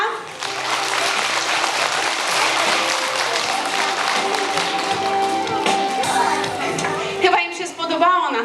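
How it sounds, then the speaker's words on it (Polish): Sustained, dense applause from a theatre audience after a children's fairy-tale stage play, loud and steady for about seven seconds before easing, with a few voices rising near the end. "Jeszcze raz gorące brawa."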